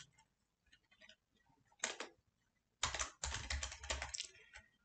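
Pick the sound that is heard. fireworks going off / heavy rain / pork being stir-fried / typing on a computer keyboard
typing on a computer keyboard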